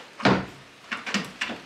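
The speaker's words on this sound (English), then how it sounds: "That knocking noise was the, well, more thumping noise, is the clutch pedal going backwards." Clutch pedal in a Rover Metro with slack cable travel, springing back and giving several dull knocking thumps, one louder thud followed by a quick cluster of softer ones, close by in a quiet cabin.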